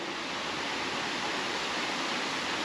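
Water pouring through an old stone spillway at a campground, a dense, steady rushing roar with no breaks and no voices.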